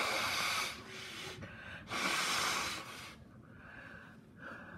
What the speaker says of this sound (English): This is the first time I've had to blow my nose.